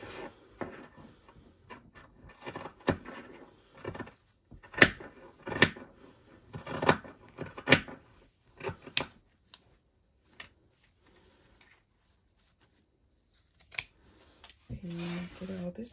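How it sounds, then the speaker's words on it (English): Scissors snip and trim fabric while a bum bag is sewn, giving a string of close, crisp cuts and rustles that come in bursts and then fade into a near-silent stretch with a brief low hum at the end. "So I'm just going to trim this up."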